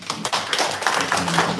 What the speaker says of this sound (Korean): 우리 격려하는 박수 한번 해주십니다.